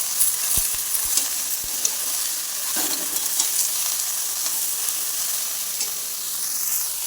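Vegetables with eggplant and drumstick flowers, seasoned with salt and turmeric, frying steadily in a pan with a low sizzle and a few soft scrapes of stirring, no voices.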